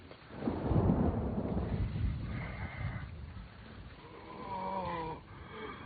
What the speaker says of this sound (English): The storm. I hear the storm.